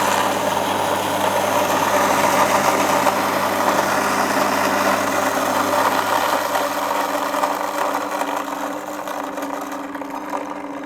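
A Gevi 4-in-1 smart pour-over coffee maker's built-in grinder runs on coffee beans with a loud, steady, close mechanical whir and rattling hum that holds throughout and eases slightly toward the end.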